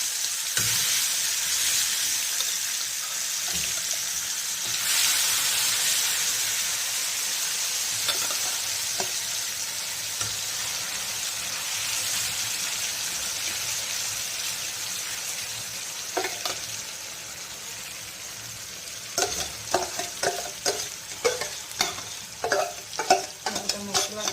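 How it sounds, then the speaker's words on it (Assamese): Fish pieces frying in hot oil in a kadai, a loud continuous sizzle with bursts of crackling and spatter, plus some stirring clinks toward the end. "তেল গৰম কৰি লৈছোঁ। এতিয়া ইয়াতে এনেকৈ কৰি মাছৰ পিচখিনি দি দিম।"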